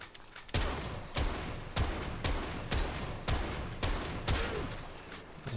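Rapid gunfire from a weapon in the video game Warframe, with about nine loud, evenly spaced shots crackling over a dense, continuous background of game noise and no speech.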